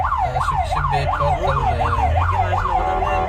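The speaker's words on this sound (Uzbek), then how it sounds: "Tez yordam avtomashinasi" An ambulance siren wails loudly and close by in fast, regular rising-and-falling sweeps over a low traffic and engine rumble, with no one speaking.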